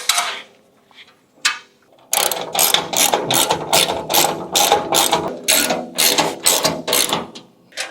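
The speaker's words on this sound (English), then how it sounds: "We're going to put the washer and nut on the back side of this bolt." Repeated ratchet clicks as a washer and nut are tightened onto a bolt during PAKMULE Scout hitch carrier assembly: a few isolated clicks, then a steady run of close, crisp bursts in quick rhythm.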